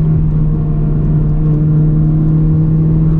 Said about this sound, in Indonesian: Keluar dari pit, kita bajak mesin 2000cc turbo mulai tikungan pertama